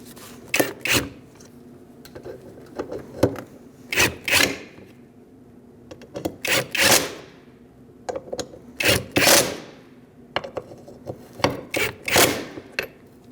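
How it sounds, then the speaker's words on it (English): Ratchet and wrench work on cooling fan bolts of a 2004-2012 Chevrolet Colorado 3.7L L5, heard as repeated short bursts of metallic ratcheting and clicking in irregular groups, close and fairly loud, with no talking. "I'm going to snug these up and then torque them."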